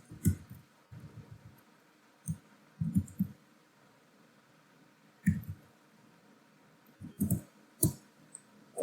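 Mouse clicks on a computer while a Google Workspace admin console is used to add a new user: a few sharp, faint clicks spread over several seconds, mixed with soft low thumps and no talking.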